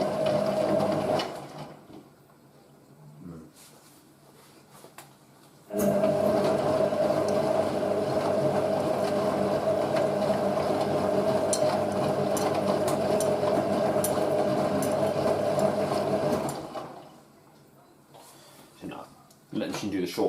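A Hotpoint 9530 Electronic 1000 Plus washing machine hums and churns on a rinse cycle with a bulky load, its motor surging in a long steady stretch between quieter pauses as a voice talks over it.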